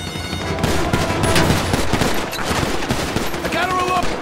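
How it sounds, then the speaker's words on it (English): Rapid automatic gunfire from the video game GTA V rattles loudly and close up in dense bursts for the full few seconds, mixed with game action noise. "Shut up and start firing."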